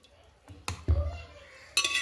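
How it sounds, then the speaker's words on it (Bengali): Potatoes tipped into a pressure cooker pot with eggplant and mustard oil land with a soft thud and metallic clinks and clatters. A louder clatter follows near the end, close and short. "এবার আলুগুলোকেও কিন্তু আমি দিয়ে দিচ্ছি"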